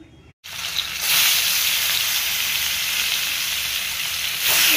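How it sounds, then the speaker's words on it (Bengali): Fish pieces, washed and rubbed with salt and turmeric, sizzle and spit in hot oil in a home kitchen, with a steady, loud frying hiss that starts after a brief pause and continues without talk. "যে মাছটাকে আমি ধুয়ে নুন হলুদ মেখে রেখেছি, এখন একটু ভেজে নেব"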